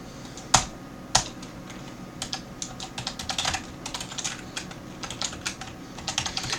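Close computer keyboard typing for renaming a file in the Atom editor, beginning with two sharp isolated key hits and then a quick uneven run of lighter keystrokes, with no voices.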